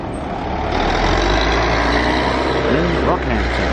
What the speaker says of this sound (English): Bus going to Gracemere.